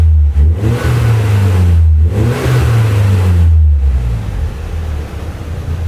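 A Mazda RX-7 at a Japanese car auction is revved up close in several strong, rising bursts, its rotary engine snarling between short dips back toward idle, loud and without voices.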